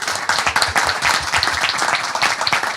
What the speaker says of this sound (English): could I get a huge round of applause?